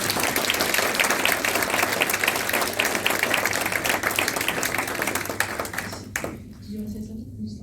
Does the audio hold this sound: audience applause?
yes